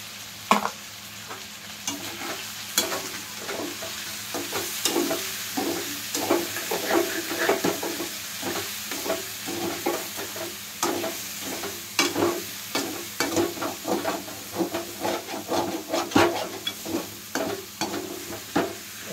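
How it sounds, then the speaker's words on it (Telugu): Curry ingredients (green chillies and tomatoes) frying and being stirred in a pan over a low flame for a chicken and potato curry, with a steady soft sizzle under repeated scraping, clacking stirs at a fairly regular rhythm, close up and without talk. "బాగా వంచుకోకుండా చిన్న మంట పెట్టేసుకొని బాగా వేయించుకోవాలి."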